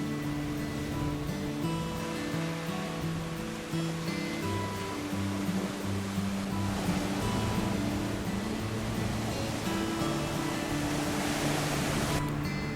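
Ocean waves wash onto the beach at Playa del Carmen at dawn, a steady broad roar of surf that holds its level throughout, with no voices.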